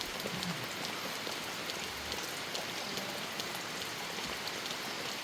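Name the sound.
rain falling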